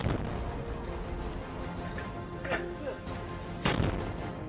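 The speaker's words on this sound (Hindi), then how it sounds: "तो ऐसे ही अंधाधुंध फायरिंग कर रहे हैं।" Indiscriminate gunfire by militants in a Middle East combat zone, a dense, steady rumble of distant shots with a couple of sharper, louder bursts standing out, no voices.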